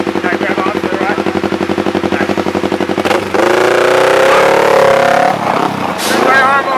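A motorcycle engine idles nearby with a rapid, loud chugging pulse, then revs up into a steady, rising roar that fades slightly near the end.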